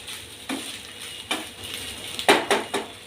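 Spatula strokes scrape and stir rice roasting in a pan over a low gas flame, made with flaxseed powder. About five close, crisp scrapes come in an irregular rhythm over a soft low background, with no talking.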